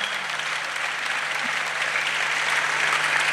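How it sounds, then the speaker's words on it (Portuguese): An audience at a stand-up comedy show in Rio Tinto, Portugal, claps continuously, a dense, even wash of applause from a full room that holds steady throughout. "Aplaude mesmo, pai, eu sei o teu sofrimento, não esconde"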